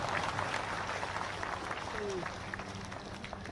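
Audience clapping at a Bihar Diwas event in Bhopal, a steady broad patter of many hands that runs throughout at moderate loudness, slightly tapering toward the end.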